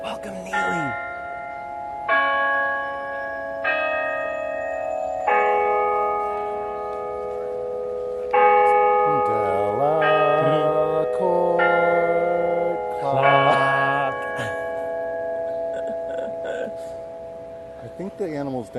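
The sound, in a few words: Central Park clock bells struck by monkey figures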